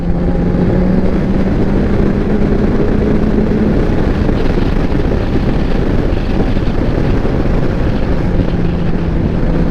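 A Kawasaki Ninja 1000 superbike's engine drones steadily while riding on a monsoon highway trip. The sound is loud and continuous, with a low engine hum buried under heavy rushing wind noise throughout.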